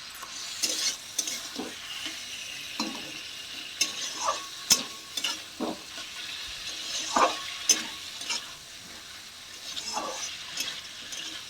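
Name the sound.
meat frying with onions, stirred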